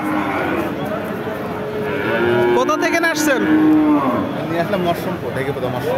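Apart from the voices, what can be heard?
cow mooing at cattle market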